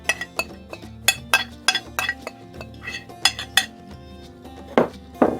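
A pan is handled while cheesecake crust crumbs are dropped into it, making a run of sharp metallic clinks and clatters at uneven intervals, close by and fairly quiet, with no talking.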